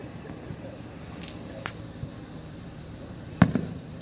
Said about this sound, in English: These are some radical fireworks, some radical rockets.